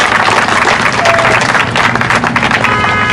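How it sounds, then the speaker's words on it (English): Loud, sustained applause from an audience at an outdoor public art unveiling in Trinity Square, Providence, a continuous close wash of many hands clapping with faint crowd murmur. "Round of applause."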